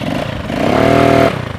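A motorcycle engine rumbles up to a brief rising rev for about half a second, then settles back to a steady idle, loud and close, with no talking.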